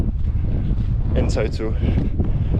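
Strong wind buffeting the microphone on an open hilltop plateau in the Peak District, a loud continuous rumble with gusts, while a person speaks briefly over it.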